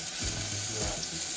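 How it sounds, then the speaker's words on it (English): Bacon sizzles loudly in a pan for breakfast eggs Benedict, a steady close frying hiss with crackle and a few low stirring bumps, no voices. "Then we're just gonna add our bacon."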